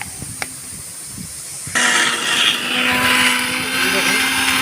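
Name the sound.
electric mixer grinder grinding spices for chicken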